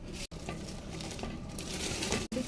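Polao rice goes into a cooking pot already seasoned with salt and green chillies and is stirred, giving a soft, close sizzle with light scraping, interrupted by two brief cuts to silence.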